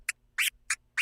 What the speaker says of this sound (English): So the chirp starts open and sounds like this.